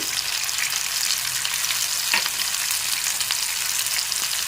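Tomato, green chilli, ginger paste, turmeric and chilli powder frying in a pan, a loud, constant close-up sizzle with an occasional light scrape of stirring.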